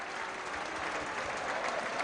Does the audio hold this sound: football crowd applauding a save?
yes